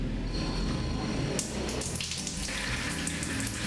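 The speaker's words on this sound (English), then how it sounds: "So I'm gonna rinse this out." Water runs from a shower or tap onto hair while conditioner is rinsed out, making a close, steady splashing hiss. The flow shifts and surges partway through as the stream breaks against the head.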